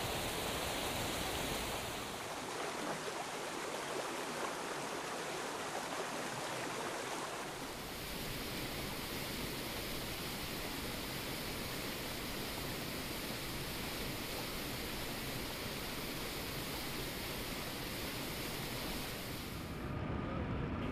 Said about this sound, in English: there are three more waterfalls embedded in thick vegetation